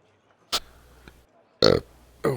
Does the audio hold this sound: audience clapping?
no